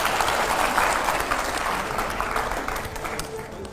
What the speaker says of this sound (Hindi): जोरदार तालियां हो पहले तो एकदम।